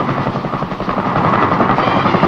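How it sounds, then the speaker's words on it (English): A CH-47 Chinook heavy-duty Army helicopter roars loud and close with a steady, rapid rotor thudding that fills the whole stretch. "The Army's heavy-duty helicopter, the CH-47, known as the Chinook"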